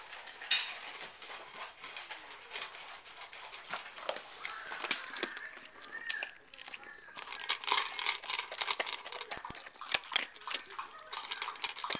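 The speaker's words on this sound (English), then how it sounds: "That is how we feed Shale and Rube." Two dogs eat dinner nearby with rapid clinking and scraping of kibble against metal bowls, crunching and lapping, a dense, busy clatter at low level throughout.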